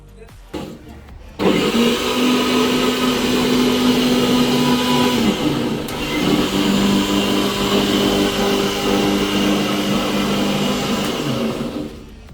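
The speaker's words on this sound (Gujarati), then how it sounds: "પાલકને આપણે મિક્સરમાં છે ને ગ્રેવી કરી નાખશું" Mixer grinder blends boiled spinach into a gravy for palak paneer, a loud steady motor whine that starts after a brief pause, holds for about ten seconds with a small dip in pitch midway, then winds down.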